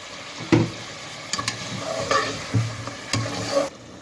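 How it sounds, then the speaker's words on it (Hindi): Garlic ginger paste fries in a pot while a spoon stirs it through, giving steady close sizzling broken by several scraping strokes. "इसको मैं अच्छी तरह से मिक्स करूँगा"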